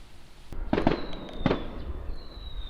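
Fireworks go off in China, a few sharp crackling bursts with a faint whistle trailing after, heard at a moderate distance without voices.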